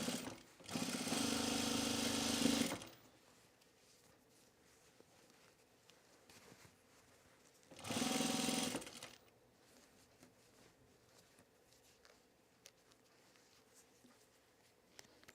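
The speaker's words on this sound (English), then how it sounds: "I always sew my waistbands first to the inside, and then I edge stitch them from the right side." A sewing machine edge stitches a pants waistband from the right side in two close, steady bursts, the first about two seconds long and the second shorter. Quiet room tone fills the gaps between them.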